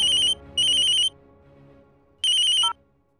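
A mobile phone ringtone rings loud and clear in three bright electronic bursts separated by short gaps, with no talk over it.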